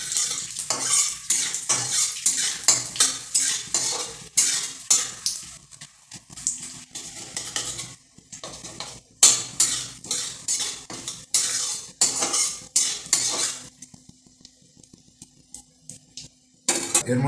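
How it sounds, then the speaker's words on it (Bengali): A utensil scrapes and clinks rhythmically against a pan as whole spices, cinnamon and bay leaves, fry with a soft sizzle; steady stirring strokes pause briefly and then resume. "একটু নেড়ে নেবো বন্ধুরা এটা।"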